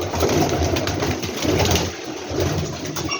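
A black male Teddy pigeon coos close by in low, rolling, repeated phrases that run almost continuously.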